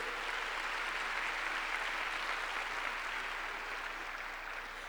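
Steady applause from a church congregation during a sermon fills the whole stretch, dense and sustained clapping without pause, easing only slightly toward the end.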